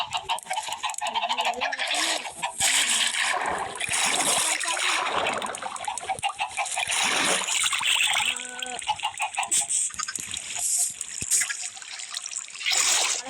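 Water placed in the Lokicraft game gives a few soft trickling, splashing blips, set against a busy, dense layer of game sound effects and background noise.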